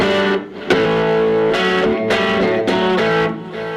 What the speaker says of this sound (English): so what I do is I bring a distortion pedal, and the crunch tone